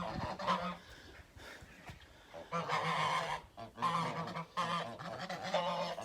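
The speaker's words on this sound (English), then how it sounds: "Goose." A goose honks repeatedly at close range in a garden, loud nasal calls coming in several bursts with short pauses between them.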